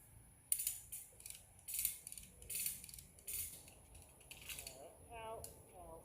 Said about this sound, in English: Now ready to tighten it up.